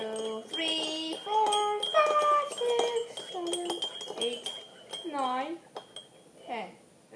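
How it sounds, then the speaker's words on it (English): A spoon stirs sugar into a glass of water, giving quick bright clinks and rings against the glass in an uneven rhythm, close and clear, with a voice briefly in the background. "I shall stir for 10 more stirs."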